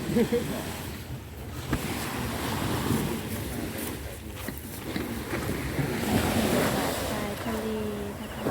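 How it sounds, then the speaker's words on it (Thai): Sea waves wash against a fishing pier at high tide while strong wind buffets the microphone, a continuous loud roar of surf and gusts throughout. "วันนี้น้ำขึ้น ขึ้นลมแรงด้วย"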